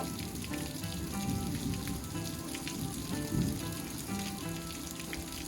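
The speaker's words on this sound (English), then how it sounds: "We ended up with quite a bit of rain that day" Steady rain pattering on surfaces over a summer garden, a soft continuous hiss of drops with no pauses and no voices.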